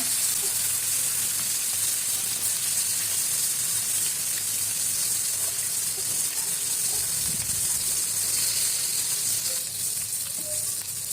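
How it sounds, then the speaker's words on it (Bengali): Hilsa fish frying in a pan, being turned until reddish-brown: a steady, loud sizzle of hot oil that runs without a break, close up, with no talk. "আমি একটু উল্টে পাল্টে দিচ্ছিলাম দিয়ে সুন্দর করে একটু লাল লাল করে ভেজে নিব"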